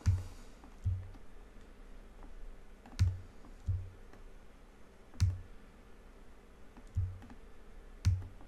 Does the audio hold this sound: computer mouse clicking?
yes